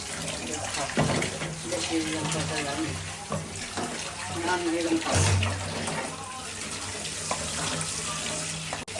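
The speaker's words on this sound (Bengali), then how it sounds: "আমি একটু জল দেবো" Water poured into eggplant frying in a pan for a tilapia and eggplant dish, a running, splashing pour with crackling under it, while a person talks over it throughout.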